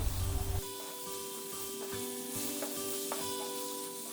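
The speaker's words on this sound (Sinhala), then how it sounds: "හොඳට මේ ටික දැන් කලවම් කරගන්න." Fried potato with dried sprats sizzles steadily in a pan while a spoon stirs it, with a louder scrape at the start and light clinks through the constant frying hiss, no talk.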